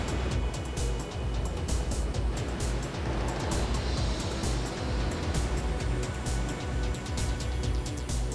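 Niagara Falls roars as a steady, dense wash of falling water, loud and unbroken throughout with no voices over it.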